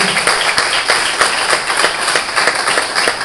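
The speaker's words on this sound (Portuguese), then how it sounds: "Dê uma salva de palmas para Jesus" A church congregation at an Assembléia de Deus evening service applauds for Jesus, a sustained, dense wash of clapping from a large crowd, loud and even throughout with no talk over it.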